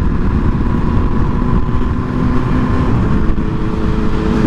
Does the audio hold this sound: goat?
no